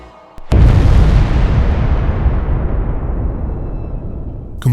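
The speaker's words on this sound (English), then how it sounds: "struck with substantial force, producing massive explosions that destroyed their protective structures and severed their rotation routes" A massive explosion from a FAB-3000 glide bomb or thermobaric missile strike on defensive positions, booming in suddenly and then rolling on as a long, loud, low rumble that slowly fades.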